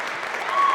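Spectators at a Wayzata vs. Hopkins high school gymnastics section final applaud the gymnasts, a brief, moderately loud burst of clapping that swells toward the end, with a faint tone over it.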